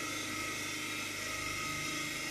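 A DC motor driving a shunt generator at speed makes a steady mechanical whine and hum with a fast rhythmic flutter, loud and unbroken throughout, with no speech.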